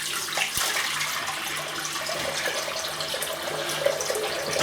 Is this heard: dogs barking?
no